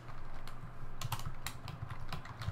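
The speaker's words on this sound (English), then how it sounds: "We're going to hit enter again. Type print." Keystrokes tapped on a computer keyboard while Ruby code is entered, a steady run of quick, fairly close clicks with a few louder key hits, no talking.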